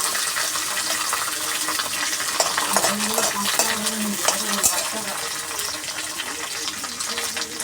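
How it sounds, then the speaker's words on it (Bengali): Washed cashews and raisins fry in hot oil, a loud, dense crackle and spatter that runs throughout with steady stirring noise and no clear speech. "কাজু কিশমিশগুলো তো ধুয়ে নিয়েছিলাম, তাই একটু তেলে দিতেই ফটফট ফটফট করে আওয়াজ হচ্ছে।"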